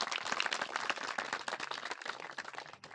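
An audience claps at a village cricket tournament opening, with dense, steady applause from a crowd at middling distance lasting the whole stretch and no talk.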